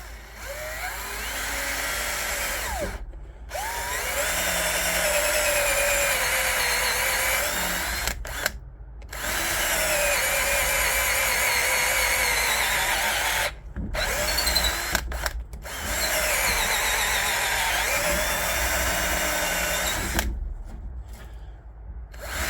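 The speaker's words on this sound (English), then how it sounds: "we're going to drill a 3/8 hole on the same face" A power drill bores a 3/8 inch hole in wood, running in several sustained high-pitched whining bursts separated by short pauses, loud and close with no talking.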